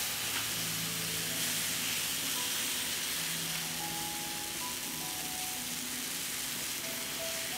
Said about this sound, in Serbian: Tiganj se zagrejao i stavljamo testo.